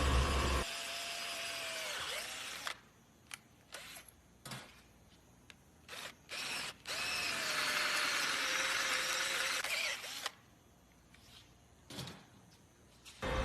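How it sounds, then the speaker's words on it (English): A power drill bores through the center of a steel seal plug in an engine block, its motor whining in several loud bursts separated by brief pauses and clunks. "we drill a hole straight through the center of the plug"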